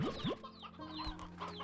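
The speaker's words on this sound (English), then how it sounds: "So many chickens." Chickens in the video game Slime Rancher 2 cluck and squawk repeatedly in a busy flock, with rising calls and overlapping chatter at close range and no speech.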